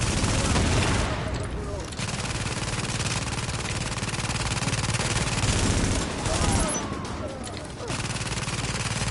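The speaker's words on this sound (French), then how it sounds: "C'est très pratique la tourelle parce qu'elle tire en même temps." An automatic turret fires rapid bursts of gunfire in the video game The Division, a dense, loud, sustained clatter that carries through most of the stretch, with brief dips, while someone talks over it.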